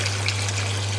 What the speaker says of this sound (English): And now I'll just add in some water.